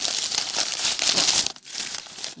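Packing paper crumpling and crinkling close up while a parcel is unpacked, dense and loud for over a second, a brief pause, then more rustling.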